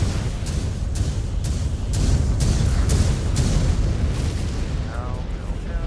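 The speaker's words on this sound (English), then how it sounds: "Incoming missile." Missiles explode in MechWarrior 5: Clans, a rapid string of loud booming impacts thudding one after another over a constant heavy rumble of combat.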